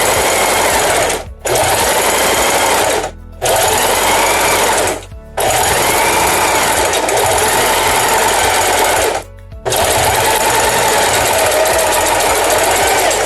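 Sewing machine topstitching the seam of a zip pouch with lining, running loud and close in long continuous bursts separated by four brief pauses.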